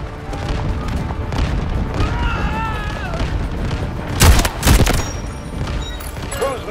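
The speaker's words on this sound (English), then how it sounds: "Artillery cover coming." Artillery barrage in the shooter Delta Force Hawk Ops, two heavy booming blasts in quick succession landing close and loud over ongoing battle noise, while a voice talks over the scene.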